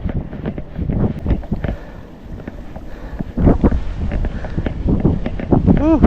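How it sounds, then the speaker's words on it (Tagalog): Strong wind roars against the microphone during a bike ride, a continuous rumbling gust that swells and buffets throughout. "lakas ng hangin."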